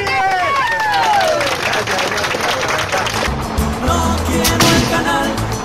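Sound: protest crowd applauding the leader

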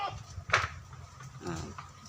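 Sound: goat bleating

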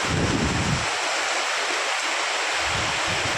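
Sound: heavy rain falling

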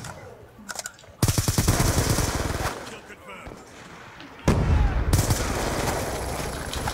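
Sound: light machine gun fire in video game Black Ops 2

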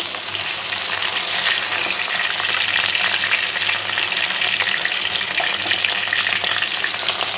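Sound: large rohu fish pieces frying in oil

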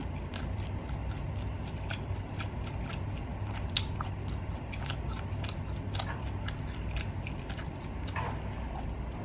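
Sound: chewing cumin roast lamb

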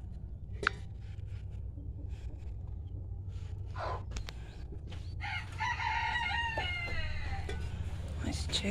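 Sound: chickens clucking and rooster crowing

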